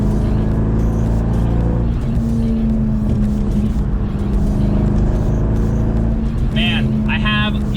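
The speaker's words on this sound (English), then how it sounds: "these Borla mufflers just sound fantastic on this thing" A C5 Corvette's LS1 V8 with Borla mufflers rumbles steadily and loud at moderate revs, a deep continuous exhaust drone held throughout with a brief higher tonal chirp near the end.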